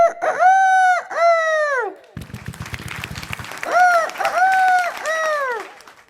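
A human voice imitates a rooster crowing, with two long rising-and-falling crows, then a burst of audience applause, then several more crows, loud and close on a comedy stage.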